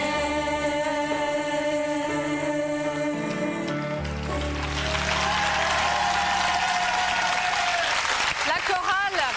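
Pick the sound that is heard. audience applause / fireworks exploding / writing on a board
audience applause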